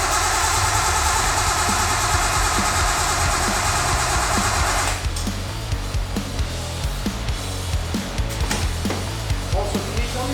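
A Datsun car engine fitted with performance mods runs loudly up close, a steady rough mid-pitched roar that drops after a few seconds into a lumpy, pulsing idle.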